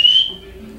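A thin, steady whistle held for a moment and then fading out, with a faint lower tone lingering underneath.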